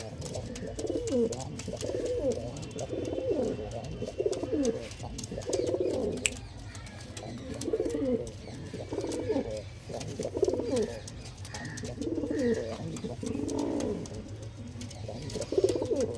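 Pigeons coo repeatedly in soft, throaty phrases, one after another at a steady pace, with faint background noise.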